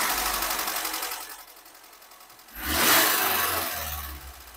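A Suzuki Futura injection engine cranks and catches, first a steady mechanical whir, then a louder burst as it fires and settles into a close, even idle.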